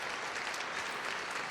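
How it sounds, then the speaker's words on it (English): A round of applause fills the brief moment, dense steady clapping from a small group, loud and continuous throughout. "Round of applause for you."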